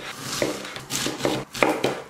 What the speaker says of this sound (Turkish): Burada da bir tane ayva doğrayacağım.